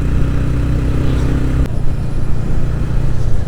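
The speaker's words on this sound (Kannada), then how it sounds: "KTM ಅವ್ರದ್ದು ಒಂದು ಲೈನಪ್ ಹೋಗ್ತಿದೆ" A line of KTM motorcycles on a Sunday group ride to Coorg rumbling past close by, engines droning loudly and shifting in pitch as the bikes go by.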